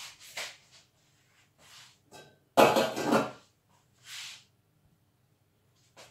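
A utensil stirs green curry paste with chicken in a pan, giving a few separate scraping and clinking strokes with short sizzling bursts and quiet gaps between them.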